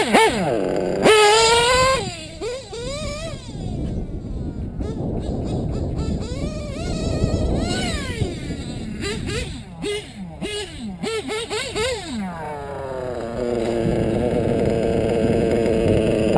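A race-tuned REDS R5R nitro RC engine screams and revs, rising and falling in sharp whining sweeps with brief drops to idle, loud and close, settling into a steady high buzz toward the end.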